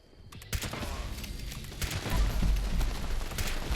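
Lever action rifle firing in Fallout 76, a run of closely spaced loud gunshots with sharp onsets, steady and near, over a dense rumbling game soundscape.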